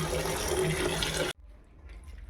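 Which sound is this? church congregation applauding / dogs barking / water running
water running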